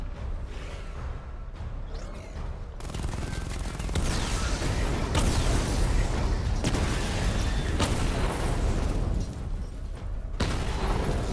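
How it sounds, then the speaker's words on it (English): Missile barrage explosions in a Batman game, a dense, loud stretch of rapid blasts and crackling impacts running almost continuously for several seconds with brief lulls. "Charge the missile barrage to level 2 to destroy up to 4 targets at once."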